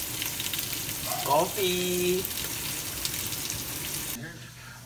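Beef short ribs brown in hot pork lard with a constant crackling sizzle, while a person briefly speaks and a few tonal sounds rise above the frying.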